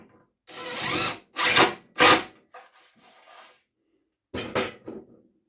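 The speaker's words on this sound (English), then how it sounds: "The poplar is really smoking when I'm putting that drill bit in there." A power drill bores into poplar wood in several short bursts with gaps between, close and harsh, each burst rising and cutting off abruptly.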